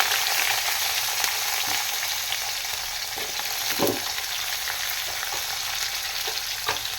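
Green chillies sizzle and crackle in hot oil for a tempering, a steady close frying hiss with scattered sharp pops throughout, no voices.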